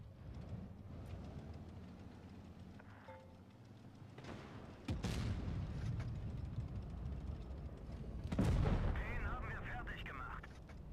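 Artillery cannon firing shells in a video game, with booming shots near 5 s and a louder blast near 8.5 s over a continuous rumbling battle bed, while a person talks throughout.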